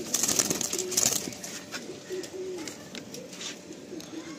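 Madrasi pigeons coo in short low throaty bursts at close range, with some wing shuffling and a voice speaking over the first second.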